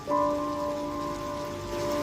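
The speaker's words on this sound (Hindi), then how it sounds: "अचानक ये कैसी आंधी बरसात आ गई।" Heavy rain pours steadily in a storm as a broad wash of noise, with a sustained tonal ring running underneath throughout.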